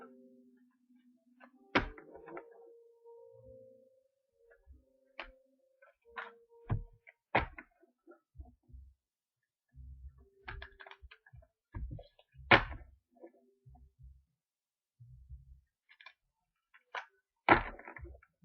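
Tarot cards being shuffled: soft papery riffling and light card slaps come in irregular bursts, with occasional sharper snaps, close by and fairly quiet.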